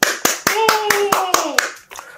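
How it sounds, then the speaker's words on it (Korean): About eight sharp, evenly spaced hand claps ring out close by, while a voice speaks over them. "박수."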